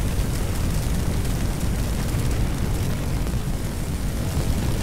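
A burning airplane fire roars in Firefighting Simulator, a dense, steady, loud rumble of flames with no breaks or variation, close and alone without voices.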